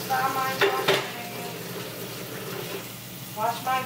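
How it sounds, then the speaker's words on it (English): Dishes being washed by hand in a home kitchen, with clinks and clatters of crockery and utensils near the start and end and a softer wet rummaging between, while a voice talks intermittently. "Wash my dishes."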